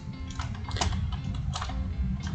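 Keystrokes on a computer keyboard as a git config command is typed, a steady run of quick light clicks with a few sharper taps, close and alone without speech.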